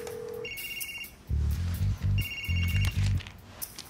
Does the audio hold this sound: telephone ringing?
yes